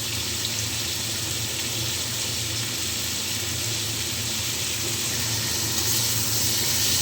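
Eggplant, potato and onion fry in a pan for a Bengali meal, giving a steady, even hiss of sizzling oil that runs unbroken and fairly close throughout, with no talking.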